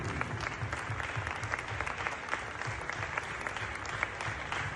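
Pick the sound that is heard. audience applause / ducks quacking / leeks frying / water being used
audience applause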